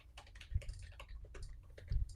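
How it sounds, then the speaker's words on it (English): Fingers type on a computer keyboard in quick irregular bursts of clicky keystrokes, close and fairly quiet, with no voices. "I was just typing out a response to this"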